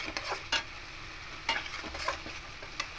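A spoon stirs spices with asafoetida in a pan for a potato curry, giving soft scraping strokes with a few sharper clinks over a faint sizzle, close and fairly quiet.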